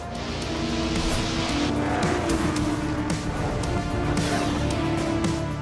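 A NASCAR race car engine roars steadily at high revs, with tires squealing over the continuous drone.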